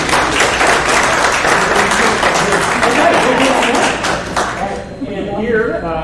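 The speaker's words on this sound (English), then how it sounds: "Would you applaud them for being" A crowd at a county board of education meeting applauds resource center managers, dense loud clapping that holds steady for several seconds and then tapers off as a voice starts.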